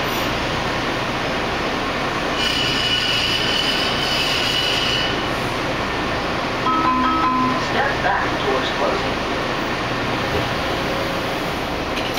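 Metro DC 3000 Series Orange Line subway train riding between Foggy Bottom and Farragut West: a steady, loud rumble of the moving car, with high wheel squeals rising partway through.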